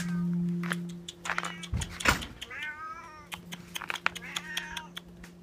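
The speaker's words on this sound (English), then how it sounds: "The other cat boy wants in Bella." Outdoors in the cold in Canada, a cat meows repeatedly and insistently in short rising cries, close and fairly faint, with a brief thump and a whirring mechanical hum early on.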